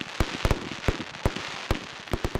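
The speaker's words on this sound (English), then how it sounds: "One event that is guaranteed to go off well is the now yearly firework display" Fireworks at a yearly village display in Lanreath, a rapid run of sharp cracks and bangs, about a dozen in quick irregular succession, fairly close and loud.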